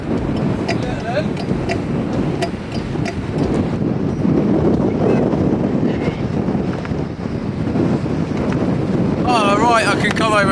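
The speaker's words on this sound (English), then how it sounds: "So it's gusting maybe 35 miles an hour tonight" Strong gusting wind buffets the microphone on an exposed coastal rock fishing mark, a loud continuous roar that swells and eases throughout, with brief voices and a whistling tone near the end.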